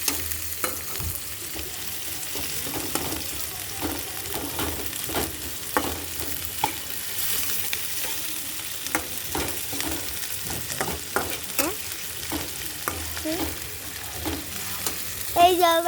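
A vegetable momo filling of chili, onion and ginger paste fries in a pan under a soft sizzle, broken by frequent rhythmic scrapes and taps of a spatula stirring it.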